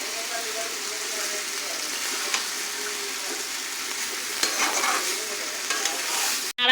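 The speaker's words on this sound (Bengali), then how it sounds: "এখন আমি নেড়ে চেড়ে দিচ্ছি।" Red amaranth greens being stirred in a pan of shrimp curry, giving a steady sizzle and frying hiss with soft scraping stirs throughout, fairly close, ending in a brief clatter.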